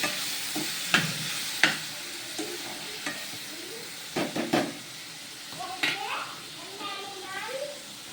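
Onions and tomatoes with salt frying in a pan for paneer curry, with a soft sizzle under intermittent sharp stirring clanks and scrapes, and a voice talking at times.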